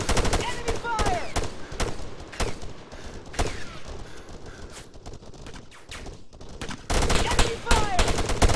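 Bursts of enemy gunfire in the military shooter Arma III, rapid cracks coming in clusters at the start and the end with quieter stretches between, heard under squad radio chatter.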